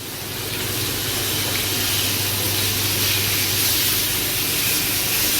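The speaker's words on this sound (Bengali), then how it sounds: "দেখুন কি সুন্দর বড় ভাই পাঙ্গাস মাছ ভাজা ভাজা করতেছে" Pangas fish frying in a home kitchen, a loud, continuous hissing sizzle that swells slightly after the first second and holds steady, close up, with no talk.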